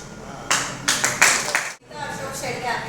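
A small audience at a Mumbai cooperative credit society's mobile banking app launch claps in short bursts, rising and fading over a couple of seconds, with a voice talking beneath it.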